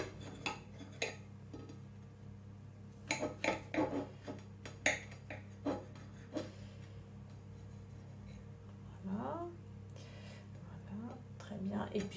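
A knife cuts small sandwiches into squares on a board in a kitchen, giving a series of soft, close taps and clicks in irregular groups, heard under a quiet hum and a speaking voice.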